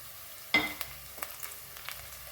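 Four green chillies dropped into a pan already frying onion and tomato for a fish curry, a sudden sizzle burst that settles into a faint, steady crackle with a few soft stirring taps.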